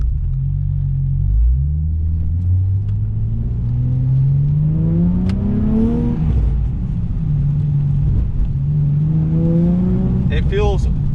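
A Nissan 370Z NISMO engine pulls with rising pitch as the car accelerates under light throttle, a steady close rumble from inside the cabin that climbs, eases and climbs again, with voices talking over it.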